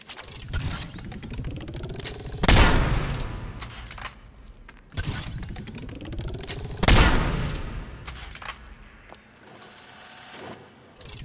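Kishock harpoon gun from Mass Effect 3, fired repeatedly at a target range: charged mechanical whirs build into loud, sharp booming shots with ringing tails, repeating in a cycle, with no voices.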